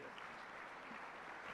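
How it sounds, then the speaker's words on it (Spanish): A gathered audience gives warm applause welcoming a speaker, a soft, steady wash of clapping hands heard faintly and from a distance, with no voices rising above it. "Vamos a recibirlo con un cariñoso aplauso"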